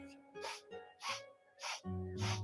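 Four sharp, rhythmic sniffing inhalations during a yoga breathing exercise, evenly spaced and close up, with a faint tonal hum underneath that swells toward the end.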